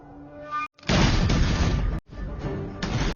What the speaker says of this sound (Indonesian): Akhirnya, pistol meriam lalu ditembakkan ke arah mereka.